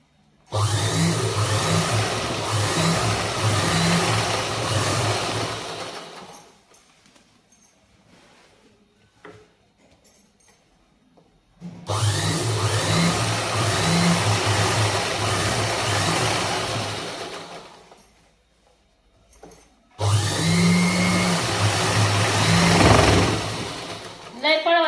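An electric sewing machine motor whirs steadily in three long runs, stopping between bursts, each stretch loud and close with a buzzing drone.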